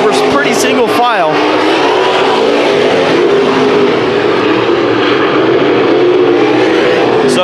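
Race cars in a speedway heat race at Arizona Speedway battle for the lead, their engines making a loud, continuous roar with a brief rising whine near the start, while an announcer talks over the racing.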